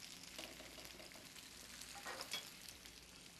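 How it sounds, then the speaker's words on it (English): Cipolline onions browning in a pan, a faint, steady sizzle with light stirring and a few soft scrapes, heard alone without talk. "I want to get our cipolline browning nicely."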